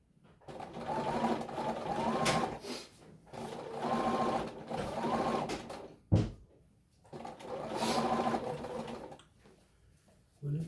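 A sewing machine stitches strips for an improv log cabin quilt block, running in three steady bursts of a few seconds each, separated by short pauses and a sharp clunk.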